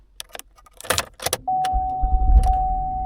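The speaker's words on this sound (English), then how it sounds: "so let's start the car." A GM car being started: keys jangle and click, then a steady chime sounds as a low engine rumble catches and settles into an idle.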